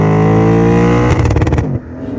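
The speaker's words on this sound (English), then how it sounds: "if you forget to upshift, well, it'll just sit on limiter." A Lexus IS500 V8 buzzes hard against the rev limiter, a loud sustained high-rev drone that breaks into rapid stuttering cuts before dropping off.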